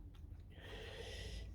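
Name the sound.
dog snoring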